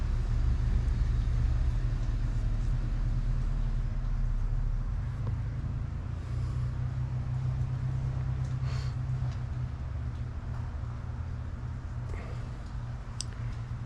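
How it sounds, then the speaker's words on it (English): Cars pulling up outside a building near a dumpster, a low rumbling idle and engine drone close by, steady throughout with faint traffic noise in the background. "More cars are pulling up."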